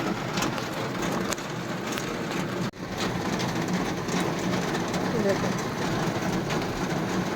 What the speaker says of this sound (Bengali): এত প্রচণ্ড বৃষ্টি হচ্ছে